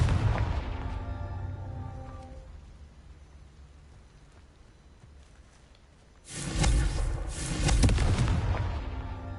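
A Confringo fire-blast spell in Hogwarts Legacy sets off a loud, dense burst of crackling explosive noise partway through, after a rumbling opening that fades into quiet, then swells again and rolls on.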